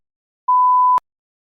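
A single clean electronic beep, steady in pitch for about half a second, ending in a sharp click, with silence around it.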